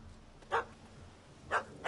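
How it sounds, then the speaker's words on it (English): A small yappy dog barks in The Witcher 3 game, three sharp high yaps spaced out over a low background hum, fairly close and clear. "Don't know how to handle yappy little dogs?"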